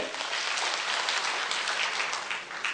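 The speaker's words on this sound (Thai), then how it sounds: "ขอเสียงปรบมือให้" An indoor audience claps through the whole stretch at a Thai public lecture on informal labor policy. The applause is dense, steady and fairly loud, with a slight dip near the end.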